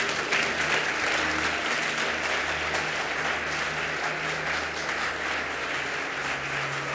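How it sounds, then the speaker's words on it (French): A church congregation applauds loudly and continuously, dense clapping filling the room without a break. "Donne une puissante offrande d'acclamation à Jésus."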